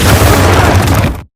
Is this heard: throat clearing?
no